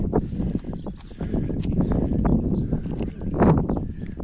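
Hooves clop irregularly on hard ground as a mare walks nearby, a steady uneven thudding with some shuffling.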